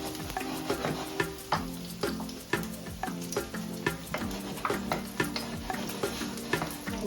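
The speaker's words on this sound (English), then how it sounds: "I'm roasting off some garlic because I'm going to be adding this to my basil" Garlic roasting in a pan on a stovetop hisses steadily under a regular rhythm of spatula strokes scraping and tapping the pan, close by and fairly loud.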